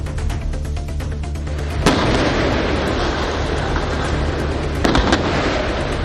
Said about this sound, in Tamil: நிலச்சரிவால் சாலையில் உருண்டு விழுந்த ராட்சத பாறைகளை வெடிவைத்து உடைக்கும் காட்சிகள் தான் இவை